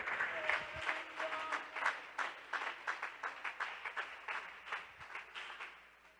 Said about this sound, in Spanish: Yo creo que hay un aplauso de gratitud para Él en esta noche